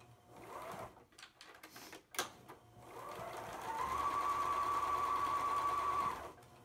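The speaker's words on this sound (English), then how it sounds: "I'm gonna add a 1/4 inch seam with a little back stitch on the end to secure" A home sewing machine with a quarter-inch presser foot stitches a seam on a fabric face mask with a filter pocket, starting with a short back stitch and then running in a steady, close hum.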